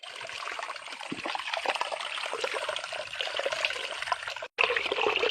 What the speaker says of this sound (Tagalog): Sa Batis, maraming tubig.